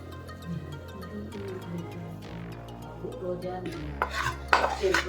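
Fried tamarind paste being stirred into cooked rice for pulihora in a home kitchen, with soft scraping and clinking of a utensil against the pot over a steady background hum, getting busier and louder toward the end.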